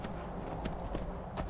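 Hooves of a horse in Skyrim clop in a few quiet, spaced thuds over a dull, constant game background, with no voice.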